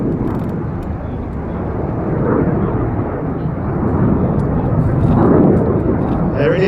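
Red Arrows RAF jets flying a slalom maneuver at an airshow, a broad continuous jet roar that swells louder toward the end, heard alongside a commentator's voice.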